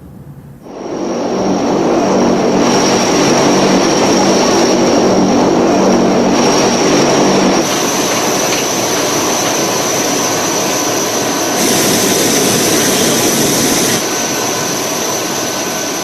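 Steady, loud engine roar from a US cargo airplane, with a constant high whine over a broad rumbling wash that shifts in tone partway through and again near the end, no voices.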